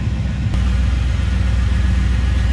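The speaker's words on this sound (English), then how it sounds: "Good sounding truck." Truck with a 5.7 liter LT1 V8, power steering and power brakes, idling steadily up close with a deep, even low rumble throughout, no talking.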